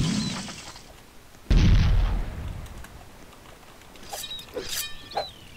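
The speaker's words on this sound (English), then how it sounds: "let me get out my premium flintlock" A premium flintlock fired in the pirate ship game Galleons gives one loud, sharp gunshot blast with a rumbling tail. Fainter clacks and metallic clicks follow a few seconds later.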